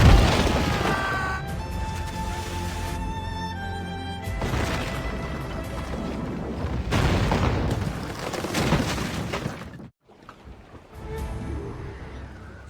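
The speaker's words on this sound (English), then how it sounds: "Cannon going!" Ship cannons fire in a naval battle in Assassin's Creed Rogue, a series of loud booms and crashes. Heavy blasts come in bursts, with a short near-silent gap before more firing.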